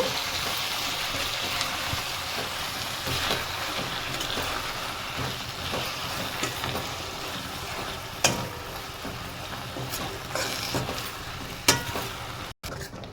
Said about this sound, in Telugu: ఆకు నూనెలో బాగా ఫ్రై అవ్వాలి